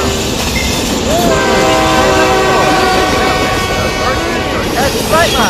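A train passes close by on a railway line, its horn sounding in long sustained tones over steady wheel and rail rumble with some clickety-clack; voices call out briefly under the noise.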